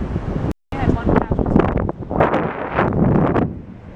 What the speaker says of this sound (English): The wind's starting to pick up a little bit.